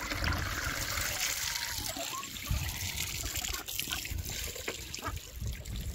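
Water is poured out for chickens outdoors on a windy morning, a steady trickling stream with splashing and splattering as it fills a container nearby.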